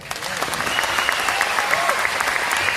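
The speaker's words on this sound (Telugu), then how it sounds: "ఒప్పుకుంటే క్లాప్స్ కొట్టండి" A large audience of about two thousand people applauds at a motivational talk, dense steady clapping that builds slightly, with a voice and some cheering or shouts mixed in.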